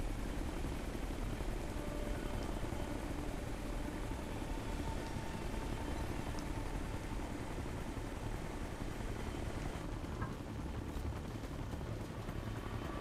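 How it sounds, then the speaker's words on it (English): A helicopter in the video game Ghost Recon Future Soldier drones steadily overhead, a continuous rumbling rotor and engine wash that stays fairly constant and moderately loud throughout, with no talk. "I don't want that helicopter to know where we at."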